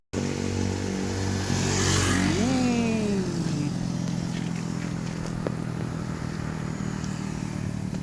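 Motorcycles from a passing group ride by on the Marilaque mountain road, engines rising as one revs past in a loud sweep, then droning steadily over continuous road noise nearby.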